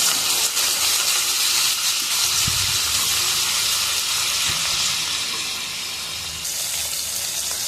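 Steady loud sizzling of chopped tomatoes and onions frying in a hot pan for channa masala, a continuous hiss with occasional pops and stirring clatter.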